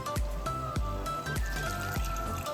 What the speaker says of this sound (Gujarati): હવે આમાં આપણે પાણી એડ કરશું